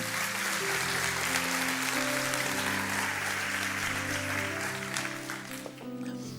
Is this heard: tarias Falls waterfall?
no